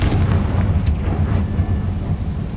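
A Confringo fire spell explodes in Hogwarts Legacy, a loud, deep rumbling blast that sustains a dense low roar for the whole stretch, with a brief crackling burst near the start.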